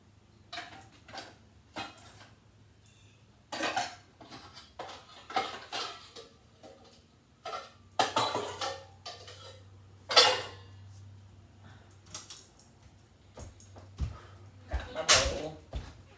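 Kitchen bowls and dishes being handled while cooking a budget family meal: scattered clinks, knocks and clatters of crockery and utensils at close range, irregular and intermittent, with background hum and some speech mixed in.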